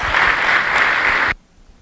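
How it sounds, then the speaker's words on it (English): Round of applause from the audience at a youth fair goat show honoring senior showmanship exhibitors, steady dense clapping that cuts off abruptly after about a second and a half. "let's give all of these exhibitors in this senior drive big round of applause."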